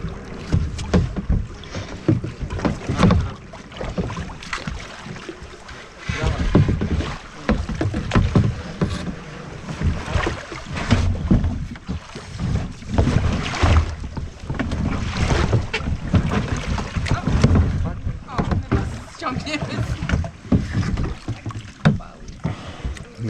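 Kayaks being paddled along a river, repeated splashing paddle strokes and water churning close by, with wind buffeting and occasional voices in the background.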